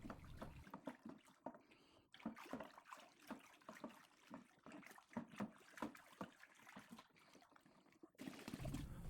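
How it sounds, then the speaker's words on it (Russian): Water is poured into crushed grape mash for making grape spirit, a faint, uneven splashing and trickling that runs steadily with soft irregular bursts. "Добавляем воду по выбранному гидромодулю."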